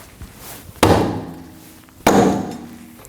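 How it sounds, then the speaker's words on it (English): Two heavy, dull thuds from a dead blow hammer striking the back of a Ford Edge rear wheel, spaced about a second apart, each followed by a short ringing decay. "Now we can strike the wheel from the backside using a dead blow hammer."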